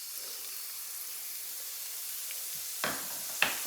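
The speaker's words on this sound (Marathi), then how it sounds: "आता याच्यामध्ये लसूण आणि अद्रक घालूया." Garlic and ginger sizzling in hot oil for veg Schezwan fried rice, a steady bright hiss that runs close and even throughout, broken near the end by a couple of sharp clinks of a utensil.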